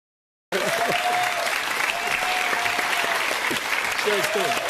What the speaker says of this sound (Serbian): kad publika da aplauz